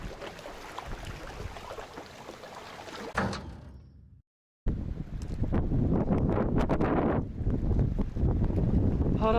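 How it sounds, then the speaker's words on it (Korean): Strong wind buffeting the microphone at a lake during bass fishing, loud rumbling gusts that cut out briefly and then return even harder. "바람이 너무 많이 불어."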